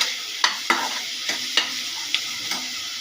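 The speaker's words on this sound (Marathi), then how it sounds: "एक कापून चिरलेला टोमॅटो टाकायचा आणि त्याला पण असं खूप छान असं भाजायचं" Chopped tomato fries in a pan over a medium flame, giving a bright continuous sizzle broken by about seven sharp spatula strokes at uneven intervals.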